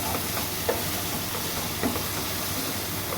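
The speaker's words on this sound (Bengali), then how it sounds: "দেখো এবার একটু নেড়ে দেবো।" Marinated chicken curry simmers in a pan while a utensil stirs it, giving a steady bubbling sizzle with a couple of soft scraping knocks from the spoon, close and moderately quiet with no voices.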